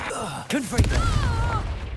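A spell blast from the wizarding game Hogwarts Legacy erupts as a sharp burst with a deep rumbling boom that rolls out and lingers, followed by a ringing magical whine; game voices speak around it.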